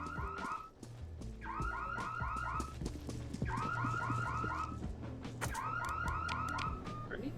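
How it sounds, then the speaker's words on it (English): A car alarm in the Criminality video game blares in a repeating warbling pattern, its bursts looping steadily and loudly for the whole stretch over low background game noise. "Alarm's going off."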